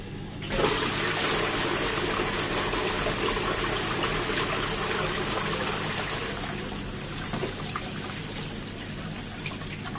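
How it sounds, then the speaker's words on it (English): Toilet flushing at a public toilet block at the Eastbourne winter wonderland, a cistern-type flush: a sudden loud rush of water that holds steady for several seconds, then eases slightly as it drains and refills, close by. "Not bad flush wise."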